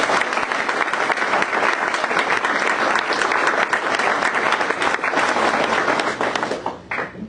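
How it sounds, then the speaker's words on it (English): A crowd gives a loud, sustained round of applause for a new Eagle Scout at an Eagle Court of Honor ceremony. The dense clapping continues steadily for several seconds and then thins and fades near the end. "Let's give our newest Eagle Scout, Charles, one more round of applause"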